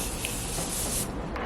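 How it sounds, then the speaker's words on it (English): Makeup setting mist is sprayed in a continuous soft hissing burst, close and fairly quiet, filling the whole moment without any talk. "I'm gonna go ahead and spray my setting mist"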